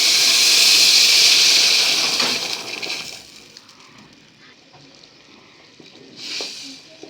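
Rice with salt and hot water in a pot gives off a loud, steady steamy hiss that fades after a few seconds to a quiet low bubbling, then swells briefly again near the end.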